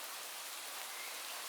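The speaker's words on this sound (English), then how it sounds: "Now more raindrops begin to fall, each one containing a blessing." Soft, steady hiss of rain falling, an even wash of raindrops with no distinct individual hits, faint and continuous with no talk.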